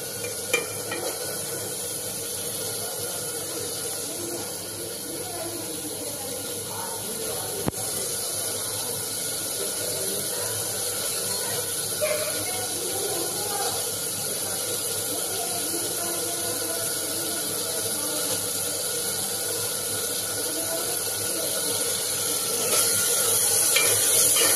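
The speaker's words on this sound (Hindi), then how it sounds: "बहुत अच्छे से मसाला हमारा भून रहा है" Masala roasting in a pan for a kachi fal (kachri) curry gives a steady soft sizzle and hiss across the whole stretch, moderately loud and close, with faint stirring noises but no talk.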